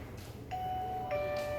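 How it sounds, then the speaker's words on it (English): A plug-in wireless Bluetooth doorbell rings two electronic chime tones in succession, clear and sustained over a steady low hum. "It has got electronic Bluetooth plug and play doorbell with the lock"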